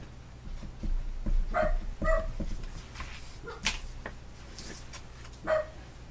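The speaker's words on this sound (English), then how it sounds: "He's at the sliding glass door barking between the blinds." A dog barks at a sliding glass door, peering between the blinds, giving several sharp close barks and yips spaced irregularly, with some whimpering between them in a quiet indoor room.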